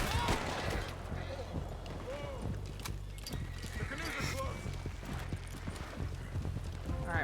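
Rapid hoofbeats of a galloping horse in Red Dead Redemption 2 pound steadily throughout, with occasional snorts and faint game sounds in the background.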